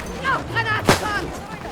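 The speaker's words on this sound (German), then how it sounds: "Oh, Granate kommt." A grenade explosion in the Battlefield V video game, one sharp loud blast in the middle of a short stretch of game noise, with voices talking before and after it.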